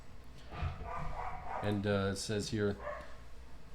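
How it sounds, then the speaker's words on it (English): Dogs barking at passersby, several sharp close barks in a quick cluster midway, with a person talking before and around them. "excuse my dogs. They bark at everything that passes."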